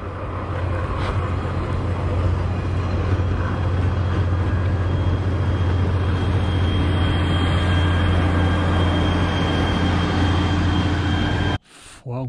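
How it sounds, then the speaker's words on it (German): A Schneebergbahn cog railway train passes at a distance with a steady low rumble and mechanical drone, sounding outdoors along a mountain trail near a halt. The rumble holds throughout and cuts off sharply at the end. "Und das, was man dahinter hier hört, ist ein Zug der Schneebergbahn."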